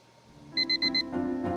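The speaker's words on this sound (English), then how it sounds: "I woke up to my alarm beeping," An alarm clock beeps in a visual novel video game: four quick, bright electronic beeps in an even rhythm, followed by a softer lingering tone and a short sharp blip at the end.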